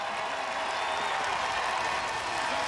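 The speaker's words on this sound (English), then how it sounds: "The crowd trying to get loud here in Jonesboro" Home crowd at a high school football game in Jonesboro, a steady broad roar of cheering and applause from the stands, sustained and fairly distant with no clear voices on top.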